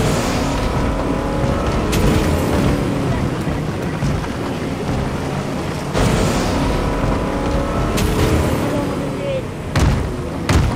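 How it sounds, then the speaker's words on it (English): A boat car drives through water in the Fortnite video game, producing a steady, loud motor drone with wind rush and a few sharp bumps, while a person talks over it. "This way to my boat car."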